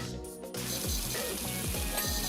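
A pressure washer in PowerWash Simulator sprays water in a continuous loud hiss, a steady broadband rush with faint rhythmic thumps underneath, and no talking.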